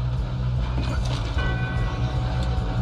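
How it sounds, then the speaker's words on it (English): A train rumbles along in Red Dead Redemption 2, a steady low mechanical roar with rattling, creaking carriages and faint metallic squeals throughout. "We have to stop this train"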